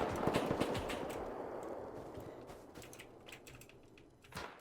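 Rapid bursts of gunfire in the video game Rust during a clan raid, dense crackling shots loudest at the start, thinning into scattered pops with a sharper burst near the end.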